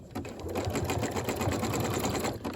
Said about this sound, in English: a zigzag stitch on the sewing machine is going to give you the best results